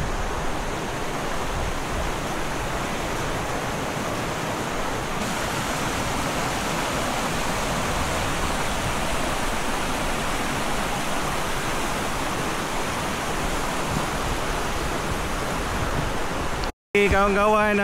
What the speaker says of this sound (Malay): hari dah hujan kawan-kawan